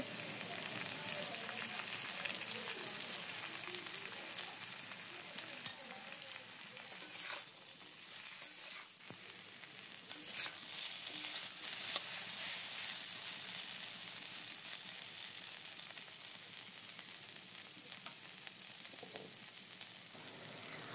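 A paste of chopped tomato, turmeric and ground cumin frying in a pan for a thin fish curry with small river fish: a continuous, close hissing sizzle with occasional stirring scrapes.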